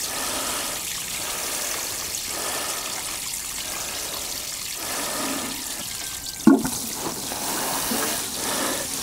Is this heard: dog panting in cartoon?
no